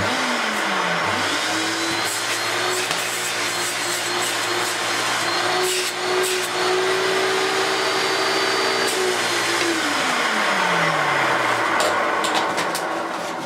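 An upright vacuum cleaner switches on and its motor whines up to full speed, runs loud and steady for several seconds as suction is checked, then spins down, with no voices.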